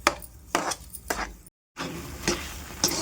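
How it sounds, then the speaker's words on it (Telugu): A ladle or spatula stirs a coconut, sugar and milk mixture in a thick pot with repeated scraping strokes in a loose rhythm, broken by a short silent gap, close and fairly quiet with no talking. "మనము ఒక అట్లకాడ కానీ గరిటె కానీ తీసుకుని చక్కగా ఇలా కలుపుకుంటూ మనం ఉడికించుకోవాలండి"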